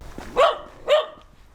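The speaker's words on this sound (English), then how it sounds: "I'll bet you they taught him to bark at foreigners." A dog barks twice nearby, two short loud woofs spaced about half a second apart, with quiet outdoor background between them and no talking.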